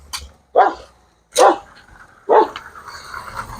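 Three separate dog barks, loud and close, spaced about a second apart in an Estonian outdoor walking setting, with quiet background between them and no talking.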